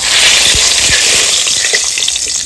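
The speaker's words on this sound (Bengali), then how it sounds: "এখন তেল বানাতে কিছু তেজপাতা দিয়ে দেবো" Bay leaves crackling in hot oil in a pan for a Bengali curry, a loud dense continuous sizzle with a few faint pops, close up and with no voices.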